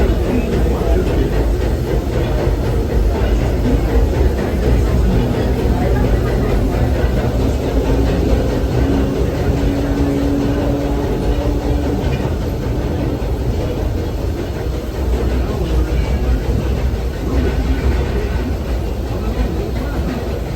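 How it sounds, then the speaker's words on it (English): The Disneyland Railroad train rumbles steadily along its tracks with a constant engine drone and a faint whistle-like tone, loud and close throughout. "welcome aboard the Disneyland Railroad"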